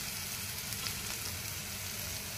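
Onions frying with salt and turmeric in a pan for suji cheela stuffing, a steady, even sizzle that continues throughout, close and moderately loud with no voices.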